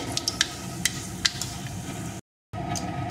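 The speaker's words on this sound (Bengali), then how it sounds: "এখন ফোড়নগুলোকে একটু ভেজে নেব।" Dried red chilli and panch phoron fry in hot oil with a soft continuous sizzle and scattered little crackles and pops, briefly cutting out before the sizzle resumes; no voices.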